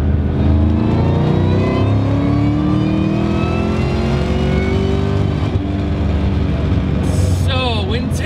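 A 2003 Mustang SVT Cobra Terminator with factory five-spoke wheels pulls hard in third gear, its engine note climbing steadily and loud close by, with a brief shift or interruption near the end.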